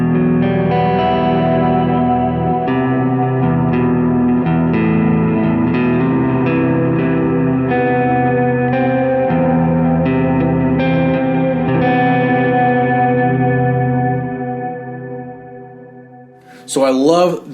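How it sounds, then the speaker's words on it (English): Electric guitar played through Big Sky reverb and Timeline delay pedals on a worship pedalboard, sustained chords washing into long ambient tails and echoes, loud and steady before fading near the end, with a short sweeping swell at the close. "you guys of course know the sounds of my Big Sky and Timeline"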